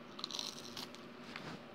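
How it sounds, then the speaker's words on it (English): A pet dog named Pepe crunches and chews a small treat close by, with a few quick bites and crackly crunches over a faint background hum and no talking. "I gotta give my dog a little treat."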